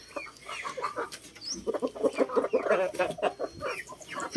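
Heritage chickens cluck and chatter while pecking at greens, peas, beans and corn, a busy overlapping stream of soft clucks and higher calls from several birds close by.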